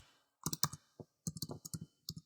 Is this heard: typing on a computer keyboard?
yes